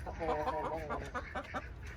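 A Leghorn pullet, a show bird, clucks in a short run of close, repeated calls with no talk over it.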